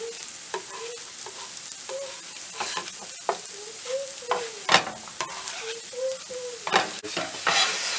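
Bread slices shallow frying in oil in a pan for double ka meetha give a steady close sizzle, broken by periodic scraping and stirring clicks and a few louder spatter bursts.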